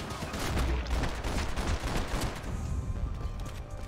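Rapid bursts of gunfire in the shooter game Max Payne 3, dense overlapping shots and automatic fire crackling loudly and close for several seconds before thinning out.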